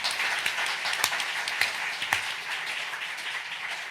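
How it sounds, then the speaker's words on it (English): Audience applause for a panel at a fair play symposium, a steady wash of many hands clapping at moderate distance, with a few sharper individual claps standing out. "Please a clap for them first."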